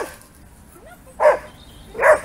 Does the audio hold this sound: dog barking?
yes